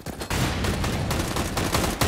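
Gunfire in the video game CS:GO, a sustained, dense barrage of loud shots with several guns firing at once, with only a brief dip near the start.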